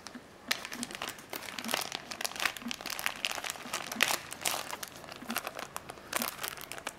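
Plastic wrap crinkles and crackles close by while a red BAPE rubber coaster is unboxed, a quiet stream of irregular crinkling bursts with no talking.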